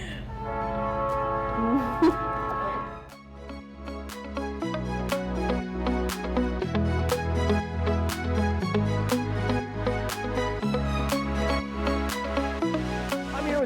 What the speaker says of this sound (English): There's the train. There it is.